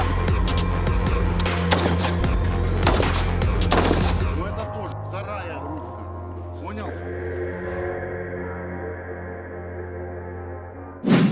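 Sharp gunshots crack repeatedly in the first few seconds at a military training shooting range, loud and close, over a steady low hum, then fade into quieter background noise.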